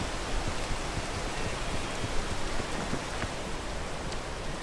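Steady, dense rain hiss from a storm in a video game, a continuous wash of drops on surfaces with no let-up across the whole stretch, alone with no voices.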